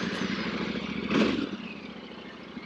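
A 2024 Tenere 700 motorcycle engine hums steadily as the rider sets off, rising in a brief rev swell before settling back to a smooth, even drone, with no speech.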